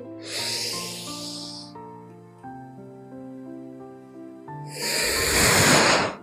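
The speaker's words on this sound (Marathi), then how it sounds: "श्वास सोडत वरती, श्वास सोडत खाली." Two long, forceful exhaled breaths during a yoga exercise for back pain, one near the start and one near the end, rushing loudly over steady instrumental music.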